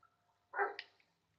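A single short dog bark in the video game GTA V, brief and fairly faint against near silence.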